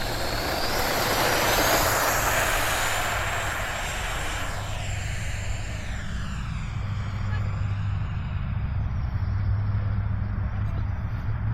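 An FMS F16 64mm electric ducted-fan RC jet on its maiden flight makes a loud whine that passes overhead with a clear pitch sweep, then fades into the distance, with outdoor wind and talk in the background.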